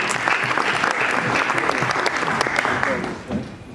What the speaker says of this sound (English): Ladies and gentlemen, big round of applause for Gabriel Rosado.